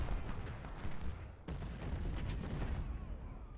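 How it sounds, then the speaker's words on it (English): Dense, continuous battlefield din of artillery booms and musket gunfire from the Civil War strategy game Ultimate General, depicting Sharpsburg (Antietam), rumbling steadily with overlapping shots throughout and no talking. "Actually, yeah, y'all can fire on General Mansfield."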